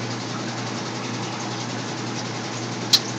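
A steady, continuous mechanical hum and whir of a laundry machine running, with a low drone throughout and a brief click near the end.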